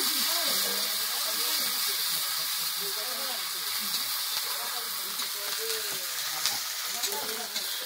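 Shrimp frying in oil in a wok, a steady close sizzle and hiss running unbroken throughout, with voices talking underneath.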